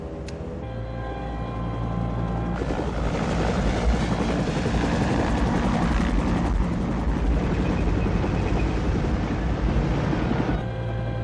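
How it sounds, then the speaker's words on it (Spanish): A helicopter in an Iranian film from 1990 builds into a loud, steady rotor roar that holds for several seconds before cutting off abruptly, with a low drone beneath. "el helicóptero descenderá a una distancia de 100 metros de la caravana"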